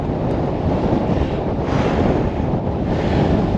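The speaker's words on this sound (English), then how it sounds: "Ooh, that wind!" Strong wind buffets the microphone on a Lake District fell summit, the Knott above Mardale Head, a steady, loud roaring gust with no one speaking.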